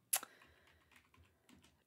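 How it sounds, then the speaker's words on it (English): Typing on a computer keyboard: one sharp, close keystroke, then a few soft, faint taps spread out across the short quiet moment. "Golly, I'm having trouble typing."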